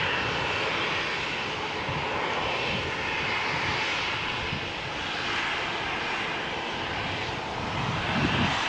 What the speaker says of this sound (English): this is a noisy prop